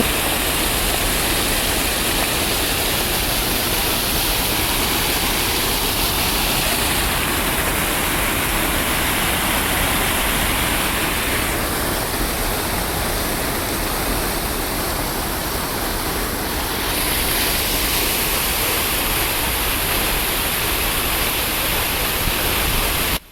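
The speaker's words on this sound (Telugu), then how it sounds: "ఆ వాటర్ ప్రెజర్ వల్ల అది సౌండ్ అనేది చాలా వస్తుంది" Water roars steadily over the small spillway of a rain-fed village pond, a loud, dense, unbroken rushing noise that stays constant from start to finish.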